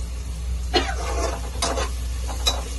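Soyabean pulao ingredients frying in a pan, a low sizzle with three or four distinct stirring scrapes over a steady low hum from the stove.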